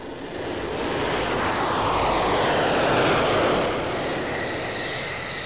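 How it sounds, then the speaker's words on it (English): A French Dassault Mirage delta-wing jet fighter flies past during a military exercise at Balıkesir, Turkey, its loud roar swelling to a peak midway and then fading slightly, with no voices. "it still uses its French Delta-winged planes in foreign operations and exercises"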